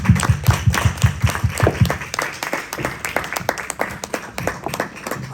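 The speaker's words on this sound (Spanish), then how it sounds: "un aplauso" An audience applauds at a talk, with dense rapid clapping that starts loud and close and then continues a little more softly for several seconds.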